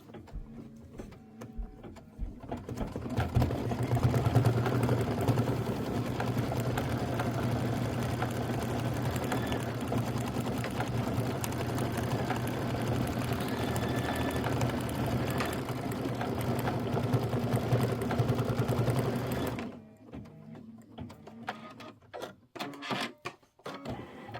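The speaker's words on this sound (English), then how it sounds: "All right, stitch out your garland. That's going to be 5 minutes of stitching." An embroidery sewing machine stitches a garland, a steady rapid mechanical whirring and clatter that runs at even loudness for about sixteen seconds, then stops, leaving quiet handling noises.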